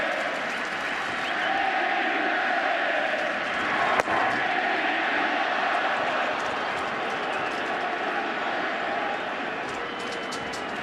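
Baseball crowd at a Yankees–Phillies 2009 World Series game, Game 6, roaring and cheering in a steady broadband wash that holds for the whole stretch, with one sharp slap near the middle.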